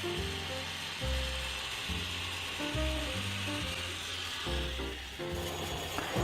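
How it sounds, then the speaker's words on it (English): A sander smoothing a wooden jewelry-box pattern, a steady close abrasive rubbing hiss over a low motor hum that continues throughout with slight surges in pressure, with no talking. "And sanding the pattern up on the sander,"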